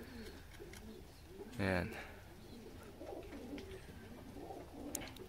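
Pigeons cooing softly in a loft during trap training, low repeated coos scattered through the clip with faint ambient noise and a brief louder burst near the middle.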